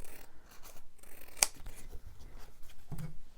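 Scissors make a single crisp snip through patterned paper for a journal cover, close and clear, surrounded by soft rustling of the sheet.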